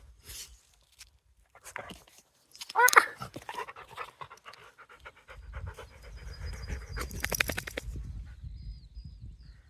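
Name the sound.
dog panting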